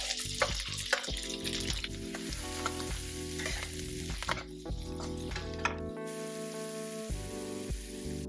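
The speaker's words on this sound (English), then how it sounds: "So my onions have been cooking for a little bit" Onions and chunky ginger pieces fry in a pan for fried rice, giving a soft, even sizzle with occasional stirring taps, faint beneath steady background music.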